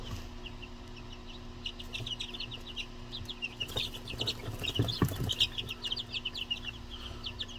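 Brahma chicks, likely of mixed breed, peep in a brooder under a red heat lamp: a steady stream of overlapping high chirps with a few lower clucks, close and fairly loud, thickening toward the middle of the clip.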